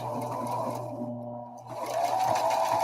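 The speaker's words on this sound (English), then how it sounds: "oh, this is doing an interesting stitch. It's got a back and forth stitch." A used sewing machine running with its presser foot down, a steady close whirring hum of stitching that briefly slows and dips before picking back up at full speed.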